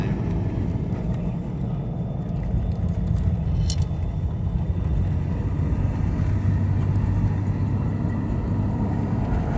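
A lifted 1992 Toyota Land Cruiser on big tires driving along a winding road, with a steady low engine and road rumble heard from inside the cabin, continuous and fairly loud.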